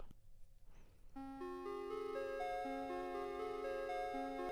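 After a brief quiet start, a bright retro video-game synth from Analog Lab with a crunchy bit-crushed edge plays a layered melody of sustained notes.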